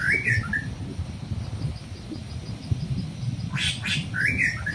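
Birds chirp and call in short bursts at a lakeside with shade trees and benches, over a steady low outdoor rumble; a few bright twittering phrases come near the start and again near the end.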